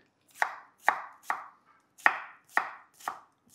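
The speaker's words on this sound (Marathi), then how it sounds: "हे कांदे आपल्याला कापून घ्यायचे. हे कांदे असे लंबे लंबे." Onions sliced lengthwise with a knife on a board: six crisp, evenly spaced chopping strokes, close and clear, with no talk.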